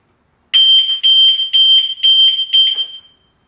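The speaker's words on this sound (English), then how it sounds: "see if that stops the alarm going off" An Audi car alarm sounds in loud, rapid bursts of a high electronic tone, about five pulsing groups over two and a half seconds, then cuts off abruptly with no talking.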